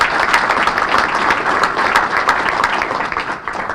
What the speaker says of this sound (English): So let's give a round of applause for everyone today.